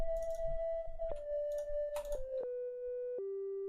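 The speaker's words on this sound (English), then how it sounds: "That's just a sine wave with some distortion." A distorted sine-wave synth lead plays a few sustained notes stepping downward in pitch, clean and steady, with light clicky mouse or keyboard sounds underneath early on.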